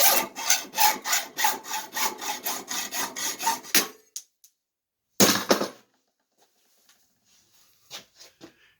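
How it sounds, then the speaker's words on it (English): Hacksaw cutting through a metal lamp pipe held in a clamp, a quick, steady series of raspy back-and-forth strokes, close and loud, stopping, then a brief final burst and a few faint knocks. "Hold the hacksaw straight, looking straight down it, even steady stroke."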